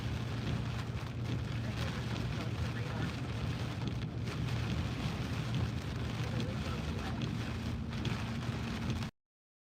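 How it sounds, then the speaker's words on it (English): Heavy rain during a Kansas tornado pours as a dense, steady roar mixed with wind buffeting the microphone, loud and constant before cutting off abruptly. "It's like she's in some heavier rain."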